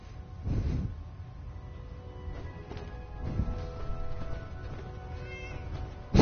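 A cat meowing inside a PS4 video game, a few drawn-out mews spaced across the scene over quiet in-game ambience and faint tonal background music.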